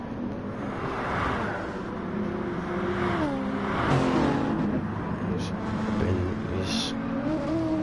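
Race cars, including a Toyota Supra, racing at Mount Panorama in a Group 3 championship, engines droning and shifting pitch continuously with a car pushing past, while a commentator talks over the racing.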